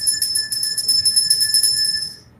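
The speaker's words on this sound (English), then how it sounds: "wherever you hear the bell, touch it." A small handbell is shaken close by in a quick, continuous jingling burst for about two seconds, then cut off, with no talking over it.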